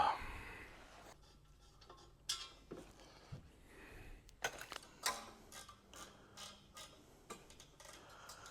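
A ratchet wrench snugging header bolts on a 1981 Cadillac Fleetwood with a Cadillac 500 engine, heard as scattered close metallic clicks and clanks in short irregular bursts against a quiet garage background.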